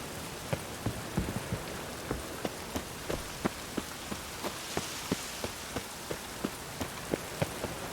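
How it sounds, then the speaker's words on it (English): Steady rain falls in the video game The Witcher 3, hissing softly and evenly, with distinct drips and taps landing in an irregular patter at close range. "Looks like rain."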